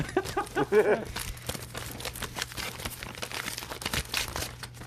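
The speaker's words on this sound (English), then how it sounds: "I'm trying to get through the envelope." A stubborn paper envelope being torn and crinkled open by hand, with a few sharp rips early on and then softer rustling and crumpling that continues close by.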